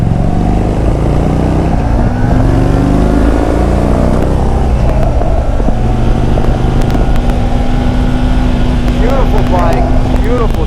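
A Harley-Davidson Ultra Classic motorcycle cruises along with a loud, steady engine drone and heavy wind rush, the exhaust note shifting slightly as the ride goes on, with no voices over it.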